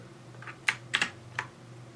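Four crisp key presses on a Rampage Strike GX7 gaming keyboard, sharp and close, spaced unevenly over a quiet background.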